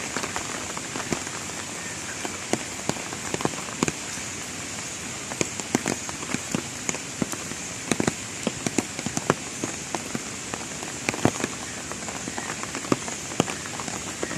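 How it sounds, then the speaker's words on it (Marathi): Heavy monsoon rain pours steadily in Konkan, a dense, loud hiss of rain on surfaces dotted with sharp drop impacts throughout, with no voices. "खूप पाऊस पडला इकडे"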